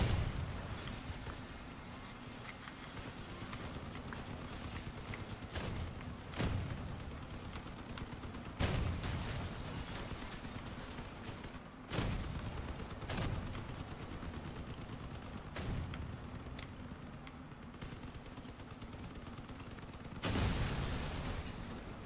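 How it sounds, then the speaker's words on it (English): Repeated explosions of armored vehicles in the Crossout combat game, heavy booms bursting every few seconds over constant gunfire and battle noise, loud and close, with no talking. "Boom! Blowing them up."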